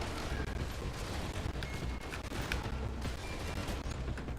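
Rapid gunfire from the top-down action game Ruiner, a dense continuous barrage of loud shots layered over game noise, with no pauses across the stretch.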